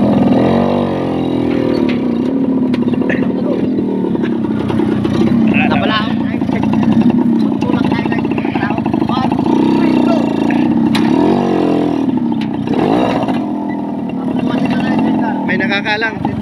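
A motorcycle engine labours and revs while climbing a steep mountain road on Mount Arayat, a loud continuous drone throughout with people talking over it.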